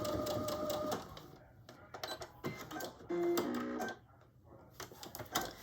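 A domestic sewing machine stitching a quilted boxy bag, running forward, reversing to backstitch at the end, then forward again, in close, start-stop bursts of whirring needle clatter.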